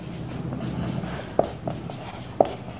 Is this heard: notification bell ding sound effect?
no